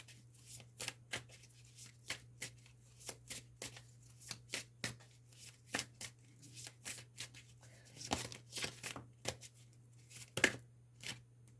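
A deck of tarot cards is shuffled close by, with repeated crisp riffling slaps arriving in a quick irregular rhythm over a low steady hum, and no one speaks.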